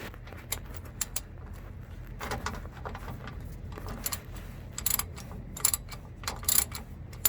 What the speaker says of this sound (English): we're going to start by loosening up our bolt here